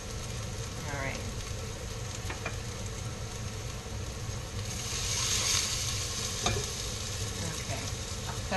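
Garlic and ginger brown in oil in a pot, giving a steady, close sizzle and crackle with soft stirring scrapes throughout and a slight swell of frying partway through.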